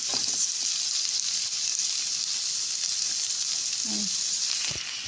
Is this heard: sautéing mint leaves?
yes